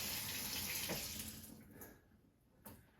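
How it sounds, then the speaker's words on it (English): A potato is washed under a running kitchen tap, a soft, close rush of water that fades away after about two seconds, followed by a small knock. "So I take a potato, right? Give it a nice little wash."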